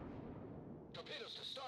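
Torpedoes launching in a naval combat video game, a sudden broad burst of firing noise cutting in partway through and continuing loudly to the end over a low rumbling background.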